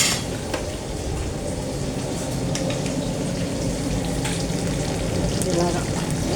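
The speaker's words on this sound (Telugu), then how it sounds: "ఇదిగోనండి చేప ఇలా వేగింది." Fish frying in a pan, a continuous close sizzle and crackle with occasional sharper pops and light clinks of utensils.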